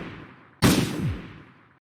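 A single loud gunshot in a radio drama rings out suddenly after a brief silence, then a long echoing tail fades away.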